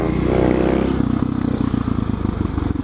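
An SM610 motorcycle engine runs through a slow wheelie, a steady throbbing drone that swells early, then chops into rapid pulsing as the clutch is fed back in, close and loud throughout.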